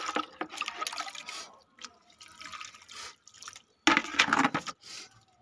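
Water splashes in uneven bursts as a mug is emptied onto rose cuttings in pots outdoors, with short pours and gaps between them and one heavier splash near the end.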